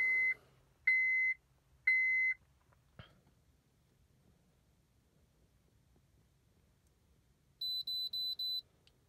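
A handheld automotive scan tool links to a Honda with the ignition on, giving three short electronic beeps in a row, then a quick run of four faster beeps a few seconds later in an otherwise quiet space.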